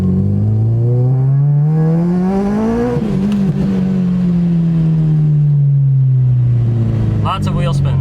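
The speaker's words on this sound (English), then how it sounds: "Lots of wheel spin." A widebody Acura RSX accelerates with wheel spin, its loud engine tone rising sharply for a few seconds, wavering, then settling into a long, steady, slowly falling drone up close.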